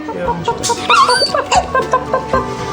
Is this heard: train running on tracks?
no